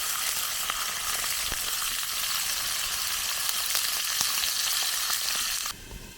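Blade steaks and mixed vegetables with onion frying on a camp stove outdoors, a loud continuous sizzle with crackling pops that drops off sharply near the end.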